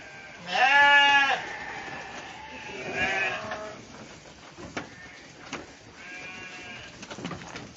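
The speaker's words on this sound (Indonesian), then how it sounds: "Lihat ini domba-dombanya." Several sheep raised as sacrificial livestock on a Subang farm bleat, one loud near call followed by softer, more distant bleats, with scattered knocks and rustling in the pen.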